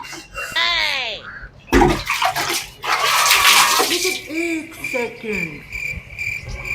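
Water gushes and splashes as it is poured for a bath, a rushing burst lasting a couple of seconds with people talking before and after it.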